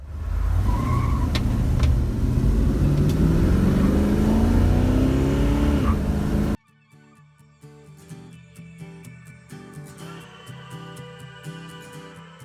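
Chevrolet Nova engine revving and accelerating loudly up close during a short drive around the block, the motor roaring with rising pitch before an abrupt cut to a quieter stretch with tapping sounds.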